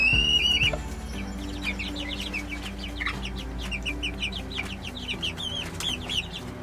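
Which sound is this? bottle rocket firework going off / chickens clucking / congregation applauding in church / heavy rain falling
chickens clucking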